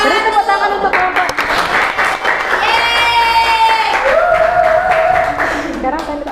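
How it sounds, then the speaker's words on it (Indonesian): Students in a classroom break into applause for a group, with steady clapping that runs under cheerful voices and some singing tones throughout. "Beri tepuk tangan untuk kelompok."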